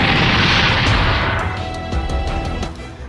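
Explosions in the video game Super Robot Wars 30 as a kaiju destroys buildings: a loud, rumbling blast with heavy low-end boom and crackling debris, followed by a few sharper bursts fading into a lingering roar.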